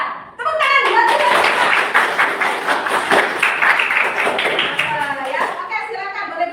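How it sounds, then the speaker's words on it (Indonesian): A standing group claps together after a word-game concentration exercise. Loud, busy hand claps run under overlapping voices and chatter, then taper off toward the end. "Tepuk tangan buat kita."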